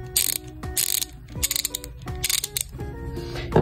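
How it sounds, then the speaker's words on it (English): Husky 3/8 inch 70-tooth ratchet wrench clicking in several quick bursts of sharp metallic pawl clicks, close and loud, with short pauses between the turns. "this is just a normal Husky 3/8 ratchet"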